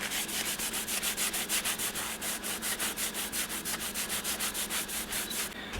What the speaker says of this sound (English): I do have this sandpaper block. I got the very finest I can. Just rub over this, see if that helps any.